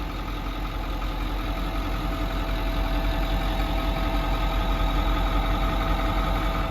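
A 2010 Ford F-350 utility truck with a Power Stroke diesel engine and a Miller Air Pak welder idling steadily, a close, even low rumble with no voices.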